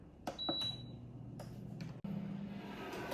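A Power XL air fryer set to air fry at 375 and started, with a few button beeps, a steady fan whir underneath, and a brief click partway through.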